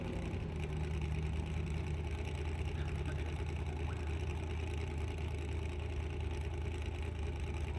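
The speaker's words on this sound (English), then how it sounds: "It sounds like he's got a misfire there as he makes his way around turn one." Off-road race car engine at the King of the Hammers 4400 qualifying on the Jeep Proving Grounds short course, a steady rough mid-to-low drone running throughout with uneven, stuttering texture suggesting a misfire, loud and continuous.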